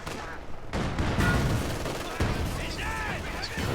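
MG42 machine gun firing in Company of Heroes 2, sustained rattling gunfire and combat din with a brief pause, plus whining in-game effects, loud and close.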